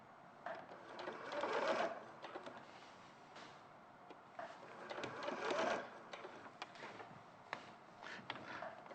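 A sewing machine stitches a fabric foot piece for a bear in two long steady runs with a pause between, a faint mechanical whir and rhythmic clatter.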